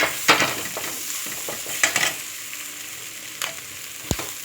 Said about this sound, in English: Then give it a good mix.